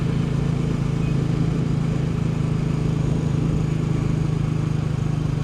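A Royal Enfield Bullet 350 single-cylinder motorcycle engine running steadily with a close, loud, low throbbing drone and an uneven, misfiring edge, with no talk over it.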